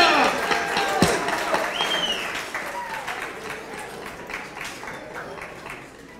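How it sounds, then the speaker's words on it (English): Wedding guests applaud after a toast at a reception, a dense wash of clapping with cheers and voices mixed in, loudest at the start and easing off gradually. "how about one more big round of applause for Larry, Wayne, and Diana for the great toast"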